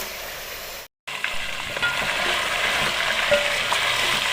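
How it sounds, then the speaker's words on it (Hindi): Garlic and ginger paste sizzles and fries steadily in a hot pan, a dense continuous crackle after a brief gap near the start, with faint stirring scrapes, no voices. "2 चम्मच के करीब लहसुन और अदरक का पेस्ट डालेंगे और इसकी हम करेंगे अच्छी तरह से भुनाई ताकि लहसुन का कच्चापन जो है वो ख़त्म हो जाए।"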